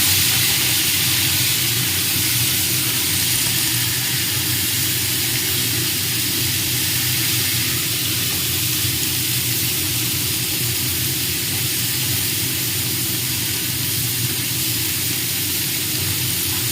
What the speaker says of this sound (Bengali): আমার আলুটা ভাজা ভাজা হয়ে গেছে এবার আমি চোরের টুকরোগুলো দিয়ে দেবো দিয়ে এইটাও কিছুক্ষণ হালকা করে ভেজে নেব